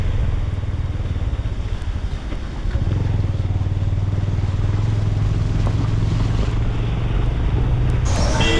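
A motorcycle is ridden along the Mussoorie–Dehradun road, its engine a close, continuous rumble that grows louder partway through, mixed with wind noise and a brief rattle near the end.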